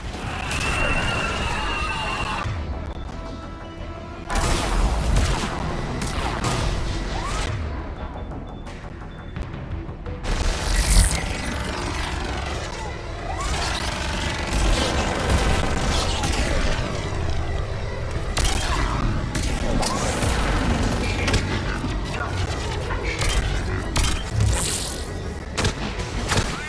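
A salvo of missile explosions and booming blasts in the Mass Effect 3 mission on Thessia, loud and sustained with repeated heavy impacts and roaring aircraft engine noise throughout, voices speaking over the battle.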